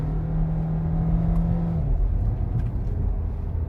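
A VW Tiguan R-line SUV engine hums steadily as it is pushed through a curve, a sustained tone that fades after a couple of seconds into road and cabin noise.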